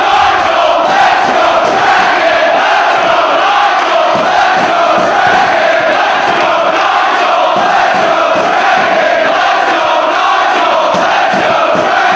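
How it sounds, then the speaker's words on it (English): A large wrestling crowd in Philadelphia keeps up loud, sustained cheering and chanting, a constant roar with rhythmic pulses running through the whole stretch. "This crowd in Philadelphia is split in terms of who they are cheering for in this particular matchup."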